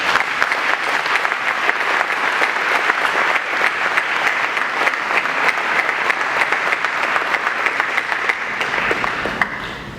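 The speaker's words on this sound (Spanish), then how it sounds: "Un aplauso, por favor." A conference audience at a transparency institute congress applauds while awards are presented, with dense, steady clapping that fills the room and stays loud throughout before tapering slightly at the end.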